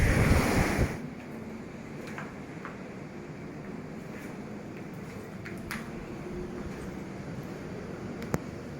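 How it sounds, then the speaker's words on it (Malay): Strong ocean waves at night, heard from a high floor of a tall building: a steady, broad wash of surf and wind fills the whole clip after a louder gust at the start, with no talk. "Ombak pun kuat lah malam ni."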